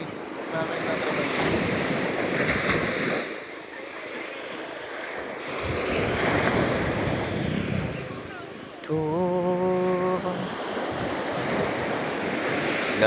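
Strong ocean waves at a beach in San Felipe, Zambales, surging and receding in loud swells with wind noise, a brief tonal sound partway through and people talking nearby.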